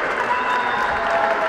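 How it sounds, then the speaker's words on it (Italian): A crowd applauds a coach at a basketball tournament award ceremony, a continuous wash of clapping with some voices mixed in. "un applauso a coach Bosco"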